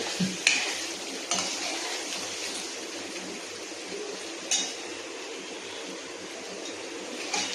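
Whole baby potatoes are stirred in a pan of green gravy for a home-style curry, a steady soft sizzle and scraping with a few sharp clinks of the spoon against the pot, no talking.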